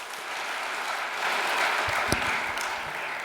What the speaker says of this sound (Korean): 단에 모실 때 따뜻한 환영의 박수를 부탁드리겠습니다